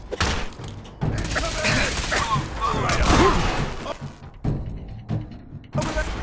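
Gunfire in the video game Fallout: rapid bursts of shots and thuds amid combat noise, loud and close, with voices talking over the action.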